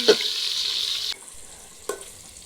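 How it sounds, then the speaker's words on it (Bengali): Potatoes fry lightly with turmeric and salt, a bright hiss that runs for about a second and then cuts off abruptly, followed by quiet and a single sharp utensil knock near the end. "এই দেখুন আলুগুলো হালকা করে ভেজে নিয়েছি"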